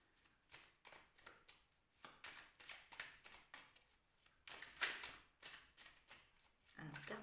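Oracle cards being shuffled by hand in bursts of quick papery riffles and soft slaps, close and fairly quiet, with brief pauses between shuffles.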